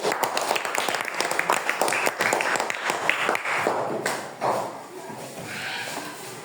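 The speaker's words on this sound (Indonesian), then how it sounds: "Tepuk tangan untuk kelompok 1." Applause from students in a classroom: a burst of many hands clapping, dense and steady, fading in the last seconds, with voices mixed in.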